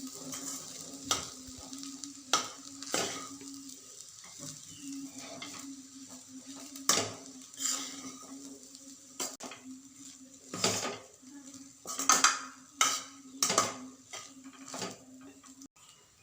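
A spatula repeatedly scrapes and knocks against a pan as rice is mixed with fried cabbage, giving irregular clattering strokes over a low steady hum and a faint sizzle, close and fairly quiet.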